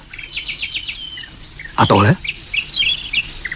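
A continuous high cicada drone fills the air with quick bird chirps scattered throughout, while someone briefly speaks over it in the middle.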